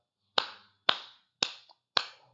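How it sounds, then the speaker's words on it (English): Four sharp hand claps struck close against a microphone during a wrestling-themed talk show, evenly spaced about half a second apart, each a loud, punchy smack with a quick decay and near silence between. "Another clap to the microphone."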